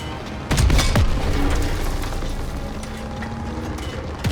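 Tank destruction in the World War II shooter Call of Duty WWII: a loud explosive boom with a burst of gunfire-like cracks early on, giving way to sustained rumbling battle noise and steady low roar for the rest.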